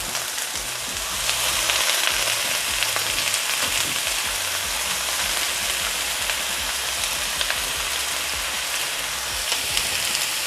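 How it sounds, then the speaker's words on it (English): Onions and peppers sizzle steadily in a hot pan on a stove eye at low-medium heat while cooking Caribbean jerk shrimp rasta pasta, a dense continuous frying hiss with occasional stirring clatter and no talking. "Now I'm going to add my onions and peppers. Be careful because it gets hot."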